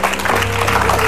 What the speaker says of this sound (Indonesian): Tepuk tangan dong untuk Asal.